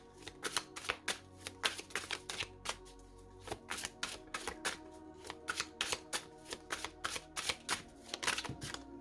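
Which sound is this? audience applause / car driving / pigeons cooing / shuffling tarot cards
shuffling tarot cards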